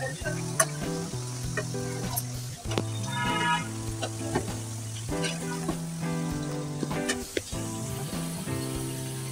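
Motichoor laddu mixture roasting in a pan over a low gas flame: a soft sizzle with repeated scraping and clinking stirs, close and fairly quiet, with a faint low hum beneath.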